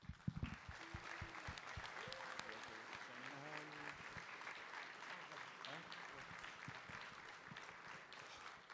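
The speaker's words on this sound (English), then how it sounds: "I'd like to give you guys one more round of applause" Audience applause at a DeMolay International luncheon, sustained clapping from a seated crowd that holds steady and fairly distant, with scattered voices and brief tonal sounds mixed in.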